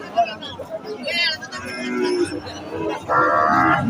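A Holstein Friesian cross-breed bull at a cattle market lets out lowing moos, with a longer bellow near the end, amid chatter and a busy crowd.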